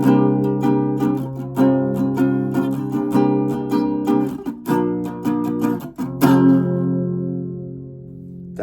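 A guitar strums the chord progression into the chorus transition of a song in the Tiny Desk arrangement, with rhythmic chords that end on a final chord left to ring out and fade.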